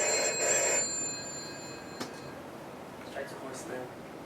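A telephone rings in a writer's room at a comedy show, a bright electronic ring heard during the first second, then fading to quiet room sound with a few faint knocks.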